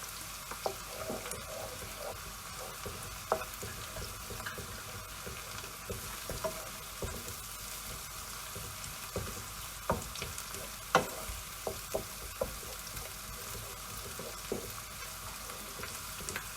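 Tomato puree frying and being stirred in a pan while cooking a ghiya tori (bottle gourd and ridge gourd) curry, with a steady close sizzle broken by irregular scraping clicks of the spoon, and no talking.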